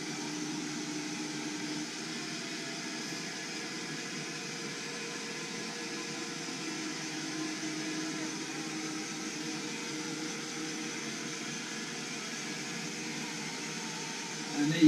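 A budget robotic vacuum cleaner under £200 running indoors, a steady close whirring hum with broadband hiss that holds an even level throughout.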